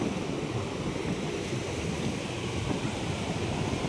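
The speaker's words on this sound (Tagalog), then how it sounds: "Pero dagat po yan doon. Yung mga alon." Sea waves at night wash continuously against the shore at Bagasbas in a steady broadband rush, mixed with wind noise buffeting the microphone, with no voices.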